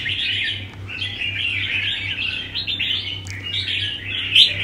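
A caged songbird with strong wing play, kept in a pen of show birds, sings a continuous stream of bright, rapid chirps and warbles close by over a low steady hum, with no talking.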